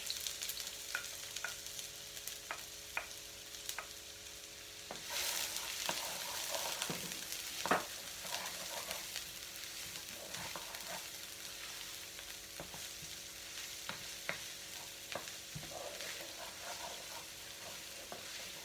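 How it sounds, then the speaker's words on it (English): Onions frying in a pan for vegetable fried rice, a soft continuous sizzle with occasional stirring clicks and scrapes, quiet and close, with no voices. "we have here our onions. We're going to fry those off first."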